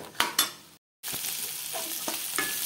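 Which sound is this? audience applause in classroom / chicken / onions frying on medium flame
onions frying on medium flame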